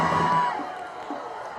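A crowd at a high school football game between Rocky Mountain and Castle View cheers loudly, with a whoop that fades into a distant roar over a little over a second and a half.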